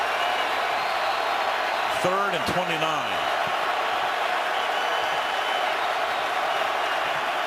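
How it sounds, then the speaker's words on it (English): Loud, steady roar of a packed NFL stadium crowd at the Cowboys at Vikings game, with a commentator's voice talking over it and a brief whistle-like tone near the middle. "Crowd roaring"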